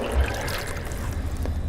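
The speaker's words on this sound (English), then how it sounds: "So to use it, you have to add water." Water poured into a Tormek slow-speed wet grinder's trough, a short steady trickling splash heard close and moderately soft.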